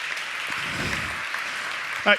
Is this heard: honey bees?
no